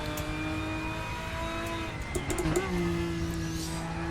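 A race car engine in the RaceRoom racing simulator gives a sustained harmonic drone, then blips and revs briefly about midway before settling into a steady higher tone.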